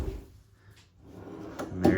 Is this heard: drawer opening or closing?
yes